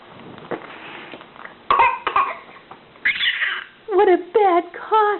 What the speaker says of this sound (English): What a bad cough he has.